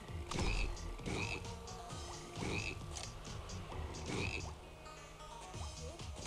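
Frogs croaking in the video game BattleBlock Theater, loud rhythmic croaks repeating about once per second over a busy game background, with no one talking.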